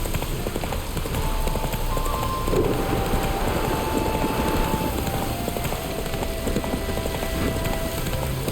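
Hooves of a galloping horse in The Witcher 3: Wild Hunt thud in a steady clip-clop rhythm under constant wind and rain-like ambience, with faint game tones drifting in the background.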